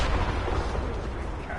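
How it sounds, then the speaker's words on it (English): Explosion in Deus Ex: Mankind Divided, a loud rumbling blast that stays dense and boomy before easing off slightly over a second and a half. "That didn't really have a lot of satisfaction in its explosion."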